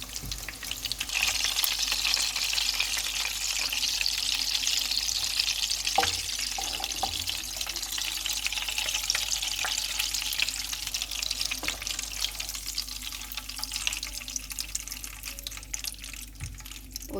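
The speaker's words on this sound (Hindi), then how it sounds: "अभी ये दूसरी साइड से भी फ्राई हो गए हैं।" Raw minced-meat kebabs fry in a pan with a steady, close sizzle, and a few clinks and stirring sounds cut in over the constant hiss.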